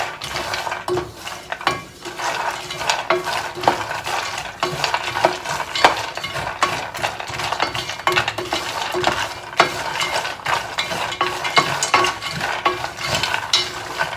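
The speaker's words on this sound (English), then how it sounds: "It's about a pound of the cashews. And just stir it up just to kind of start coating all that olive oil around" About a pound of cashews stirred in olive oil in a pan, a continuous busy scraping and clattering of nuts and utensil, fairly close, with a faint sizzle underneath.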